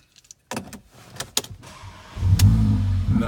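A 2015 Mercedes-Benz GLA 45 AMG starts from inside the cabin: a few door and seat clunks, then the engine catches and settles into a loud, steady low rumble close by.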